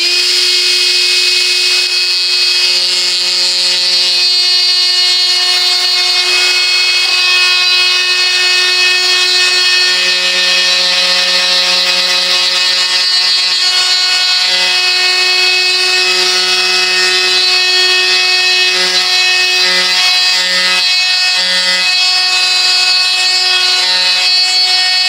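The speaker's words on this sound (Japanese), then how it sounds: "削るのはもちろんね、マキタですよね" A Makita power tool grinds into a wooden guitar neck being scalloped, giving a loud, steady, high whine that runs unbroken for about 25 seconds, with a low hum that comes and goes as the load changes.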